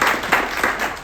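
Guests at a Korean church foundation's leadership installation ceremony clap briefly, a short burst of applause with a few louder swells close by.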